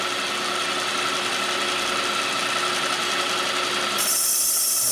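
A boring machine cuts a Harley-Davidson Twin Cam big-bore cylinder in a high-speed pass, giving a steady, loud machining whine and hum that holds throughout, with a brighter hiss rising near the end.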